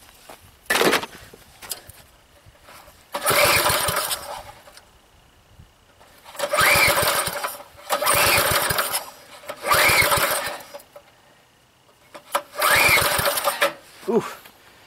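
An old, once-seized rototiller engine coughs and sputters in repeated bursts, revving up briefly and dying back several times in a loud uneven rhythm, with a faint voice between surges.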